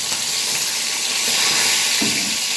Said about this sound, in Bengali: মাছ ভাজা হয়ে গেলে আমি মাছ উঠিয়ে নেব।